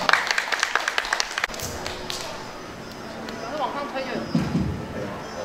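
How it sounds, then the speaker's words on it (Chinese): An audience at a science talk claps to welcome a professor, a brief burst of rhythmic applause at the start that quickly gives way to someone speaking over room noise. "那我们以热烈掌声欢迎王慕容教授"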